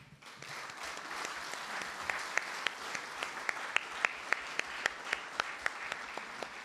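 Audience applause fills the hall at the 73rd Jeju 4·3 victims memorial ceremony, a dense steady clapping from a large crowd with sharp individual claps standing out, no talk.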